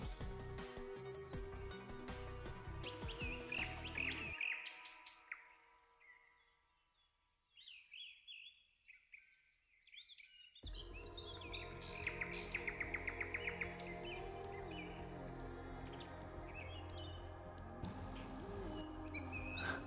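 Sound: forest birds singing

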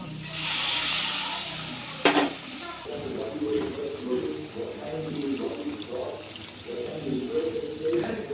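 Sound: water poured into sizzling fried spice masala

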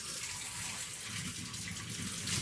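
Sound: cold water being poured for homemade play dough

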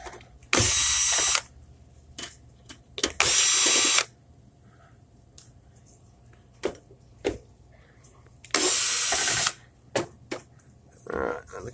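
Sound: drilling a hole with a power drill

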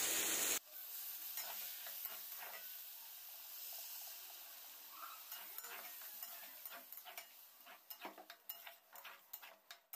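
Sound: chicken and potato curry simmering after adding water

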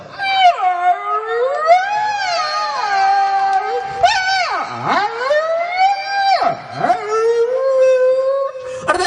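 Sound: voice imitating a hungry dog howling

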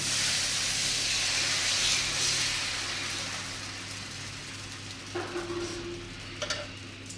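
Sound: dosa batter poured onto hot griddle, sizzling

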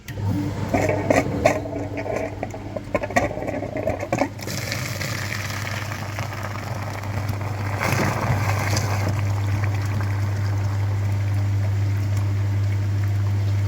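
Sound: flushing machine pumping through car heater radiator, Daewoo Lanos

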